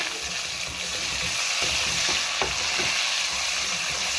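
Chopped tomato hits lightly browned onions in a hot pan, giving a steady dense sizzle and frying hiss with a few soft clicks of a utensil stirring, close and continuous with no voices.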